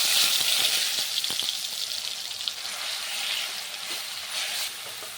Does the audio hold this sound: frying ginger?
yes